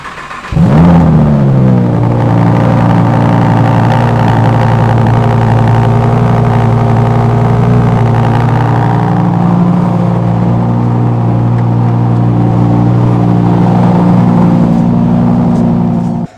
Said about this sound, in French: Je te laisse la primeur du premier démarrage.